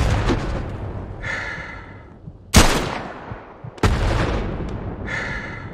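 Grenade explosions and gunfire in the World War II shooter Hell Let Loose, with a rumbling battle bed, two sharp loud blasts near the middle and end, and bursts of distant firing throughout.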